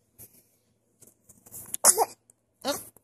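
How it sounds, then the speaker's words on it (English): A single sharp sneeze bursts out close by, followed by a second smaller sniffing exhale, amid quiet room sounds. "We have a sneeze."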